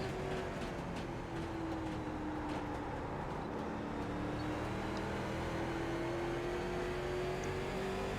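A late model race car engine drones steadily in the iRacing sim at Myrtle Beach, a smooth continuous whine with slight pitch swells, moderately quiet and alone without talk.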